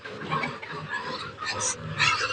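Month-old piglets on a farm squeal and grunt in a noisy, overlapping cluster close to the microphone, with sharp high squeals breaking through a continuous low grunting.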